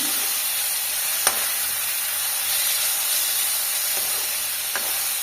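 Vegetables sizzle in a pan for atta pasta, a steady hiss of frying with a couple of brief sharp pops, close and fairly loud, no voice over it.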